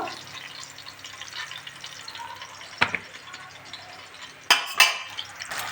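Banana and potato pieces fry in peanut oil over a soft continuous sizzle, with a few sharp clinks of a utensil against the pan standing out in the latter half.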